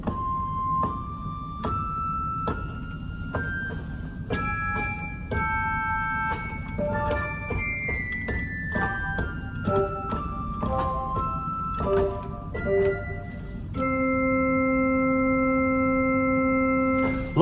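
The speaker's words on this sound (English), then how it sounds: "The next flute stop on the grate is a harmonic piccolo." Bright, high tones from a 2-foot harmonic piccolo flute stop on a small pipe organ play a slow melody of sustained notes, ending on a long held chord, with a low rumble underneath.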